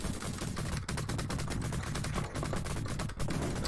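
Rapid gunfire in the arcade shooter Cabal rattles on continuously, a loud dense stream of shots with steady rhythm and slight dips, close and dominant with no talk over it.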